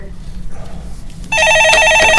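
A telephone rings loud and steady during a Korean stock-market radio call-in show, cutting in abruptly after a stretch of quiet studio background.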